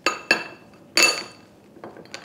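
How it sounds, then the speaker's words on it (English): Ice cubes clinking against a small pitcher of half and half set out for brunch: a few sharp, bright clinks spaced irregularly, close and moderately quiet, with no talking. "I'm going to surround it with ice cubes."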